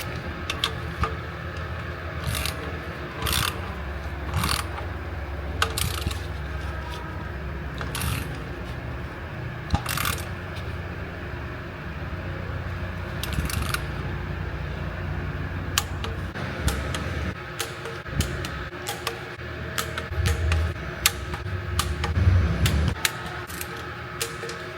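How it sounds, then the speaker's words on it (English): Ratcheting torque wrench tightening the drain bolts on a Suzuki Swift's JATCO CVT7 JF015E transmission, with repeated dry mechanical clicks and short ratchet bursts scattered over steady workshop background noise, close and fairly quiet, no talking. "Now I just need to torque them down"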